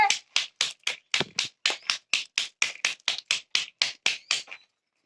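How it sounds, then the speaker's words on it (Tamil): A light wooden stick taps clay about twenty times in a steady, even rhythm, each tap a crisp, close slap that ends after nearly five seconds, with no talk. "வெயிட்லெஸ் தடியா இருக்கணும். லைட்டாக தட்டணுங்க. ரொம்ப வேகமா தட்டக்கூடாது."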